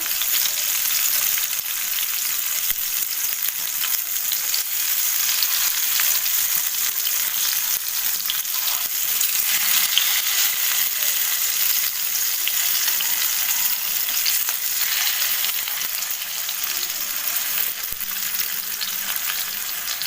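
Rava-coated fish fries in oil in a pan over a medium flame, an even, continuous close-up sizzle that holds steady throughout with no talking.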